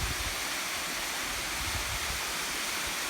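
A waterfall at a swim hole reached by a hike, a loud, steady, broadband rush of falling water that fills the clip with no pauses and no voices.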